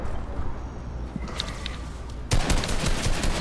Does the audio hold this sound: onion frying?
no